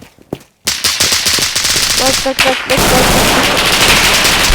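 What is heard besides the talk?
gunfire in a video game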